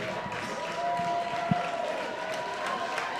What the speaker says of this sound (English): The crowd that remains here at the ballpark making some noise